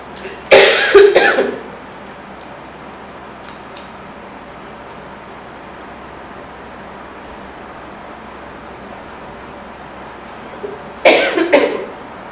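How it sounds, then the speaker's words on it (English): Two loud, close coughing fits, one near the start and one near the end, with a long, quiet stretch of faint room hum between them. "I've gotten away without coughing till now."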